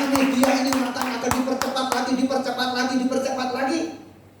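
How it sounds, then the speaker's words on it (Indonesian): A church congregation claps along during a service, steady loud rhythmic claps over music and a speaking voice that continues throughout, fading near the end. "Tepuk tangan buat Tuhan Yesus"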